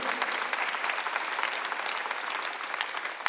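Church congregation clapping during a Sunday worship sermon, a dense, even wash of many hands applauding at moderate distance throughout.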